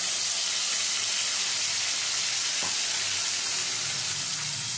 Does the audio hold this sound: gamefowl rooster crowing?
no